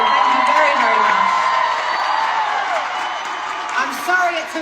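A concert crowd at a show in Las Vegas cheers and whoops loudly in a dense, sustained roar, with whistles and shouts rising near the end.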